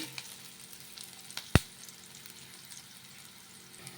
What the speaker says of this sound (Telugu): ఇలా బాగా కలిపేసుకొని ఇవి కొంచెం ఫ్రై చేసేసుకోవాలి ఆయిల్లో